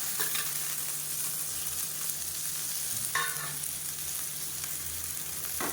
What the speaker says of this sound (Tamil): இந்த முருங்கைக்கீரையை நல்லா வதக்கி விட்டுக்கலாம்.